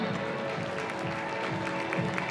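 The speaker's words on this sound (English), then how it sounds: "Give them a round of applause, ladies and gentlemen." A crowd at a bridal fashion show claps fairly quietly and steadily over a brief stretch, with a sustained musical tone underneath.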